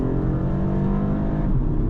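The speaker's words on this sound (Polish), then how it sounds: "tutaj słychać, że mamy 3 cylinderki, jak tak ostro depniemy" A 2025 BMW 220 Gran Coupe with a 170 hp three-cylinder engine pulls hard under full throttle, a steady, loud, close engine drone with rising intensity and no voices over it.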